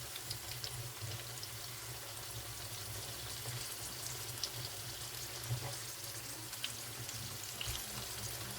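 Sweet potato fries in oil in a pan over lowered heat, giving a steady, quiet sizzle with small crackles and pops scattered over a constant low hum.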